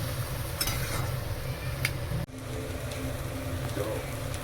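Vegetables and prawns sizzle steadily in a pan as water goes in, a loud continuous frying hiss with a brief dip midway and occasional light clinks, no voices.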